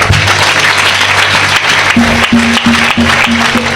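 A church congregation claps and cheers in praise at a worship service, loud and continuous, with a droning sustained tone running beneath the applause.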